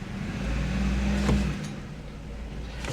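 A worn 1984 Chevy Citation runs and creeps forward under its own power, its engine giving a close, steady rumble that swells slightly and then eases off, with no voices over it.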